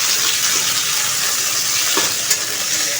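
Chicken stirred in a hot frying pan for a lightly spiced Chinese-style vegetable dish, giving a steady close sizzle with a brief scraping stir near the middle and no talking.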